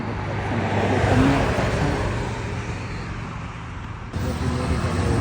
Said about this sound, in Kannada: ಡೆಲಿವರಿ ಗಾಡಿ ಹೋಗ್ತೈತೆ. ನಿಜ ಡೆಲಿವರಿ ಗಾಡಿ.